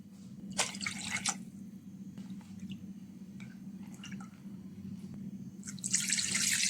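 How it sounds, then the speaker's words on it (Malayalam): Water splashes into a pot in a short pour, then a few scattered drips, before a second steady pour begins; a low hum runs underneath. Two cups of water are poured into a cooking pot while making Arabic chicken. "ഈ പാത്രത്തിലേക്ക് രണ്ട് കപ്പ് വെള്ളം ഒഴിച്ചു കൊടുക്കുക"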